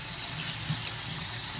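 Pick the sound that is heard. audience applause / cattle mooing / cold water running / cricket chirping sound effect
cold water running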